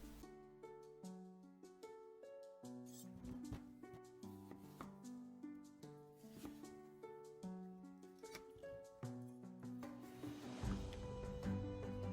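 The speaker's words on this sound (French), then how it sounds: "Vous allez éplucher les patates douces, les tailler en macédoine." A knife dices peeled sweet potatoes on a cutting board in a steady run of crisp, close chops under loud background music.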